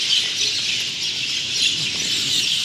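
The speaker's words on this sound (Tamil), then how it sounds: "இங்கே பாருங்கள், எல்லா பறவைங்களும் இங்கே தான் உட்காந்துருக்கும்." Many birds chirp together around a factory complex in Malaysia, a dense, continuous high twittering chorus with occasional squawks, fairly loud and close, with no talk over it.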